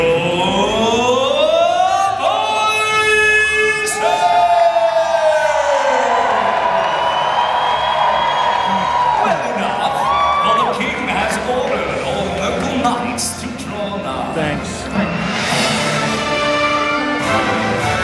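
A crowd cheers and whoops in a large arena during a Medieval Times tournament show in Schaumburg, near Chicago. A loud announcer's voice speaks over the crowd, and the noise rises and falls across the whole stretch.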